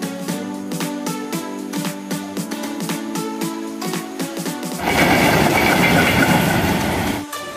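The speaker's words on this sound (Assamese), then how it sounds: "ট্ৰেইনত জাৰ্ণি কৰিতো ভালে লাগিছে" A passenger train runs on rails on a morning journey, starting with a rhythmic clickety-clack of wheels over rail joints and tonal rumbling, then swelling into a loud, dense roar of rolling stock close by.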